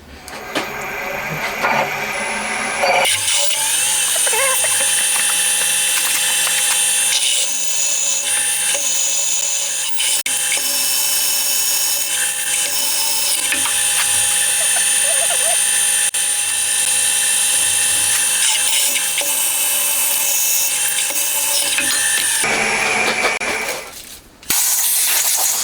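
A drill boring a 7.9 mm hole in a motorcycle top bridge for a Honda RC146 replica, a loud, steady high-pitched machining whine that runs unbroken for about twenty seconds, then stops.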